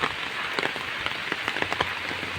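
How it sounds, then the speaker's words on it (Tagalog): Heavy rain pours down steadily in a dense, even hiss, with close drops pattering on a surface. "Lakas ng ulan."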